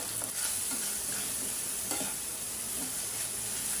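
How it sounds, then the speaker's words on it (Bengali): Ginger and garlic sautéing in a pan give a steady, close sizzle throughout, broken by a few faint scrapes of stirring, with no voices. "আমি আদা রসুন একটু ভালো করে কষাই নেব"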